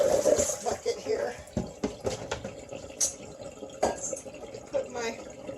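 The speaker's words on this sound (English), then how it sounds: "And I will rinse them a number of times." Turnips being rinsed in a bucket of water, with soft close sloshing, splashing and dripping in uneven bursts, while a person talks over it.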